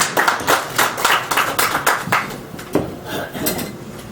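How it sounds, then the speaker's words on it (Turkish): A room full of people applauds, dense clapping that rises in waves and then slowly thins out. "Sayın Durak Turan Düz alkışlarınızla huzurlarınıza."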